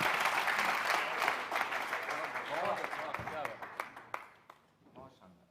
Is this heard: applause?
yes